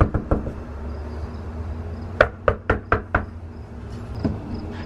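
Knocking on a door, first three knocks early, then a brisk run of five sharp raps near the middle and a softer one later, fairly close and loud over a steady background hum, with no talking.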